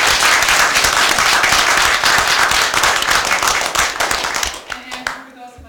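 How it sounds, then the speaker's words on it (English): Round of applause for an Eagle Scout at a city commission meeting, a room of hands clapping steadily and loudly before thinning out and stopping near the end. "All right, give him a big round of applause."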